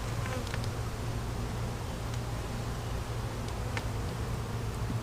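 Bees buzz around during a swarm trap transfer, a dense and constant close-up hum with some individual insects flitting past.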